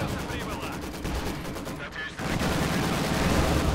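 Rapid gunfire from Company of Heroes 2 clatters near and loud in a dense World War II battle, bursts of shots overlapping continuously across the whole stretch with a brief dip in the middle.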